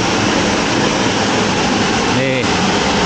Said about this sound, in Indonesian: Nih di bawah air terjun banget nih.